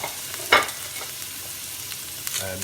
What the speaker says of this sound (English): got the butter, and we're going to sear it straight in the pan